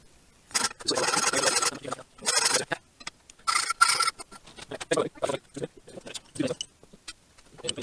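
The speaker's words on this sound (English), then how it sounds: "So we've got all of these pieces, set them up in the vise and file them." Metal pieces clamped in a vise are filed by hand while building a scrap-made sheet metal bender, giving loud, rasping strokes in uneven bursts with short pauses between them.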